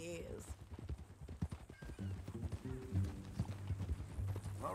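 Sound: horse hooves clip-clopping, from a video game

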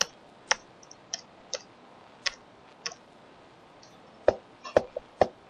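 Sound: computer keyboard keys being pressed

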